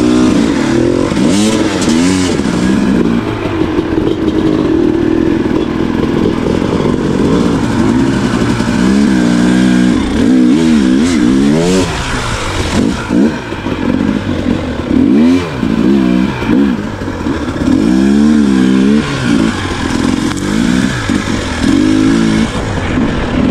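A new KTM 300XC two-stroke dirt bike revs hard while climbing a bank, its loud, close engine wavering through repeated throttle blips and bursts of acceleration with no pause.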